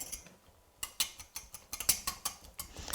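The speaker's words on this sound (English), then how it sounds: "all you need to do is whisk" A whisk beats a salad dressing for Brussels sprouts in a bowl, making faint, quick metallic clicks and taps. The clicks fall in an uneven, brisk rhythm, close by and with no talk.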